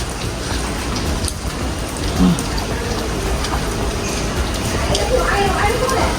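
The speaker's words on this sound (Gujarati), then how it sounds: "વરસાદ ચાલુ છે એટલે ચાલુ બાઈકે તો વ્લોગિંગ નહીં થશે" Rain falls steadily in Surat near Hazira, a dense continuous hiss of drops on surfaces close by, with faint voices mixed into the wash of sound.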